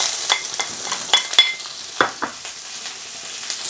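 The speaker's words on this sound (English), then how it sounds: "I'm going to hit it with the peppers and the onions." Peppers and onions hit hot oil in a wok for chicken with cashew nuts, a sizzling hiss punctuated by sharp scraping stirs and tosses, fairly close.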